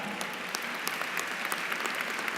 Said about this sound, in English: Yes, we should applaud him.